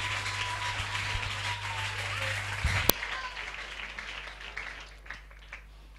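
A church congregation applauds at a prayer service, dense continuous clapping that stays loud across the room, with a low hum and a sharp knock partway through before the clapping slowly thins out.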